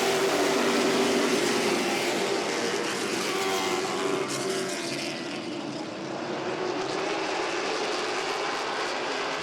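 A pack of late model race cars roars past at Langley Speedway on a green-flag restart, a loud, broad engine drone whose pitch sweeps as the cars pass before fading slightly.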